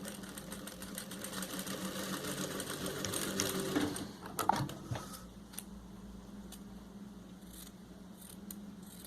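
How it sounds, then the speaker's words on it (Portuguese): A sewing machine stitches an apron strap in a rapid mechanical chatter that speeds and slows, with a few sharp clicks in the middle and quieter intermittent stitching afterward. "eu viro e venho encostando o pezinho da máquina aqui, ó, na dobrinha que eu fiz"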